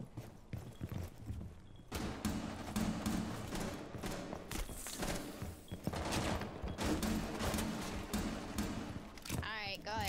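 Dense gunfire from a Rainbow Six Siege match sounds in bursts and volleys, with thuds and a players' voice chat intermittently over the shooting.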